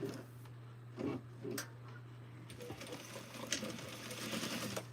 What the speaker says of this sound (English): Then we're going to sew up a 1/2 inch.